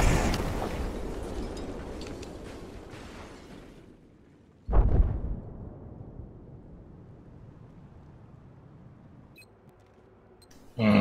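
A grenade launcher round bursts in a Battlefield 4 match, one loud, boomy blast mid-clip that trails off into rumble, after several seconds of dense gunfire and battle noise that cuts out abruptly.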